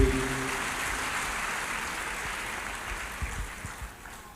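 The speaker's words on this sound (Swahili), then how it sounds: "Pigieni Muthoni makofi mazuri." Applause from a church gathering for Muthoni, a steady crowd clapping that begins loud and slowly tapers off over a few seconds, with scattered claps standing out near the end.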